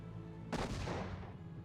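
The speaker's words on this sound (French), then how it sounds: "Je crois que c'est une bombe." Bomb exploding in the video game Kya: Dark Lineage, a single sharp booming blast over a low game background hum, decaying over about a second.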